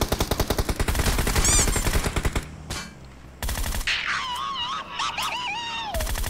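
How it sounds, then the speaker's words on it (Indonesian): Rapid bursts of Groza rifle gunfire in PUBG Mobile, loud and rhythmic, followed by a pause and then chirping, warbling game effects. "Tembakin terus bang sampai meninggal bang"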